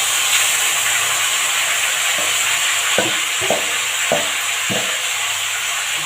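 Chicken meat with onions, garlic and spices frying in hot oil for a rural-style country chicken curry, a steady loud sizzle with several scraping stirs of a spatula against the pan.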